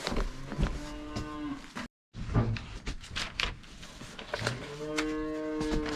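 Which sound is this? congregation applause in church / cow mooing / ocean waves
cow mooing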